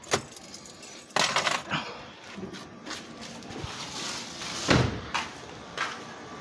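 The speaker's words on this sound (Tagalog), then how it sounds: "Tanggalin lang natin yung susi." Car keys jingle and rattle as the key is pulled from the ignition of a 2011 Kia Rio, a few close metallic clinks spread through the moment with no talking.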